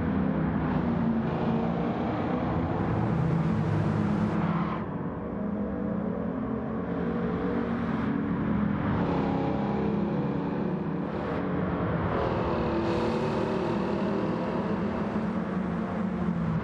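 Simulated 1969 De Tomaso Mangusta V8 in a racing game, a steady engine drone rising and falling through gear changes and revs across the whole stretch, loud and continuous with no talk over it.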